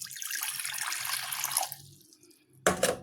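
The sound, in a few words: pouring a cup of water for starch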